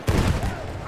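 Machine gun fire in the Battlefield 1 Argonne Forest map, a short loud burst of rapid booming shots that rings out and fades, with a voice calling out over it.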